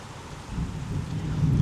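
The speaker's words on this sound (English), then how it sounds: "So it started to rain, so I just moved over to my patio." Outdoor rain falls steadily near a patio while a low thunder rumble swells and grows louder toward the end.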